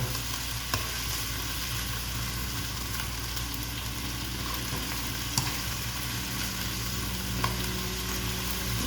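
Northern Thai curry of cabbage and pork belly being stir-fried in a pan, a steady close sizzle with occasional clinks of a spatula, no talking.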